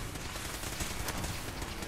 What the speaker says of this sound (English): They have automatic pistols.